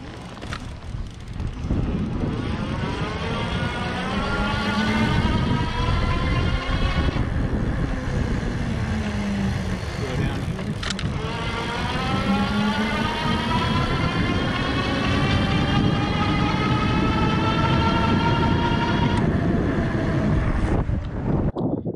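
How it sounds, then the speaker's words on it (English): A SONDORS Fold XS e-bike's 750-watt hub motor runs at full throttle, a steady rising whine that climbs in pitch as it speeds up, heard up close with wind rushing over the microphone throughout. "I wanted you guys just to be able to hear the motor, hear how loud it is."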